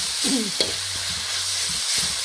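Minced pork stir-fried in a hot pan, a steady sizzle and hiss with a few spatula scrapes and clacks against the metal, close and moderately loud, no voices.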